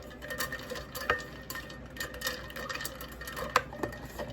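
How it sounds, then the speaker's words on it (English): A liquid mixture being stirred gives soft, repeated clinks and scrapes of a utensil against a container, with a few brighter taps at an irregular pace, close and fairly quiet. "Just gonna stir it up."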